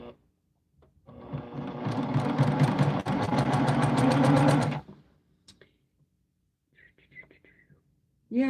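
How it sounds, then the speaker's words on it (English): A sewing machine runs a burst of stitching through white fabric, a steady rapid mechanical whir lasting about four seconds before stopping, with quiet speech and small handling noises afterward. "I hope my sewing machine isn't too loud."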